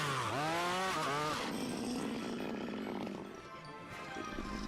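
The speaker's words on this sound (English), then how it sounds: "We're drilling holes for trees" A motorised earth auger drilling holes for planting trees, its engine revving up with a rising, wavering pitch and then settling into a steady loud drone close by, with no talking.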